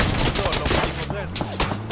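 Several rapid gunshots ring out in PUBG, sharp bursts over a continuous rumble of game noise, with a voice talking over the action.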